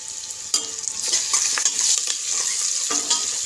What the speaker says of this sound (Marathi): आपण कांदा छान परतून घेऊया